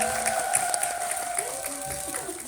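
Theatre audience applauding at a daytime musical stage greeting in Daehangno, a steady, fairly loud wash of clapping with faint crowd murmur and some tonal sound threaded through.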